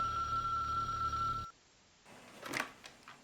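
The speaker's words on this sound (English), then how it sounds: "I'm getting a phone call." A steady electronic telephone ring from a video game plays loud and alone for about a second and a half, then cuts off; quieter scattered noises follow afterward.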